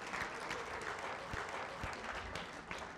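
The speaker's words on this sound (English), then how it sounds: "Give yourselves a round of applause." An audience at a women's leadership summit breaks into dense, steady applause, many hands clapping together close by with scattered sharper claps throughout.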